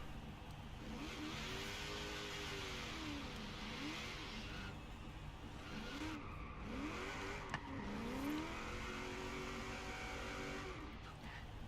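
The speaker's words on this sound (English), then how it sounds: "it does donuts fairly decently" A Chevelle doing donuts in Forza Horizon 3: the engine revs rise and fall in repeated swooping sweeps, with tire squeal over a steady roar and no talking.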